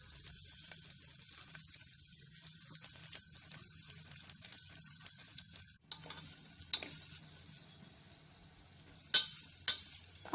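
Potato pieces fry in a pan with a steady, close hissing sizzle, broken by occasional scraping stirs and a few sharper clatters near the end.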